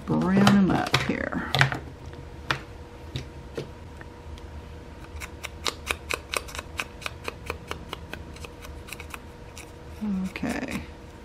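Scissors snipping a paper sunflower cut-out, a run of sharp, evenly spaced clicks and snips through the middle, close and moderately loud, with a voice talking briefly at the start and again at the end.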